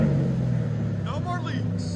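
A 2008 Ford Mustang GT with a 4.6L V8 and Pype Bombs exhaust gives a steady low, moderately loud rumble, with a voice briefly speaking over it toward the end.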